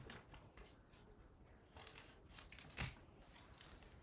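Scissors trimming paper for a stamping and memory-keeping project, with a series of soft close snips and rustles, faint and intermittent with one sharper cut near the end.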